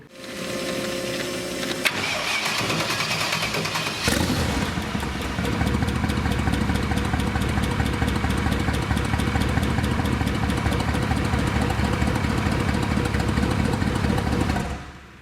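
An AMG engine with a custom dry sump system cranks and catches after a few seconds, then settles into a loud, steady running rumble that continues until it cuts off at the end.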